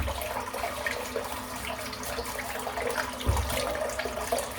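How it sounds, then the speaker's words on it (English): A tap runs at a sink while a hand is wet before a head shave, a close, continuous splashing stream with a brief heavier thump of water near the end and no talk. "Oh, I'm just going to wet my hand."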